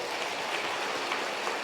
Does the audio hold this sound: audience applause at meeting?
yes